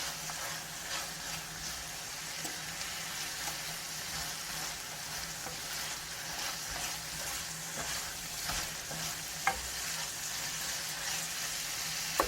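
Southern-style fried bologna casserole mixture stir frying in a pan, a steady, even sizzle that carries on throughout with a couple of faint clicks, no voices over it.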